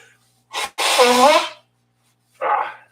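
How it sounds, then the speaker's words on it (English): A person blows their nose loudly into a tissue with a short honking burst, then gives a second, briefer blow after a pause. "looks like it's the time of the show when we blow our nose"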